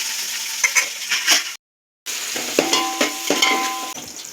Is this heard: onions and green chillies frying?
yes